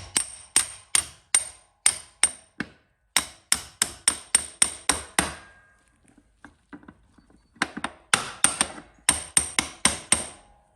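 Hammer blows ring out in quick rhythmic bursts of several strikes each, sharp and metallic, with a short pause midway before the pounding resumes.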